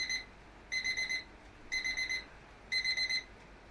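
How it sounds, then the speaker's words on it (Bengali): Bursts of rapid electronic beeps from an alarm clock, four pulsing groups separated by short pauses, clear and near. "অ্যালার্ম বাজলো।"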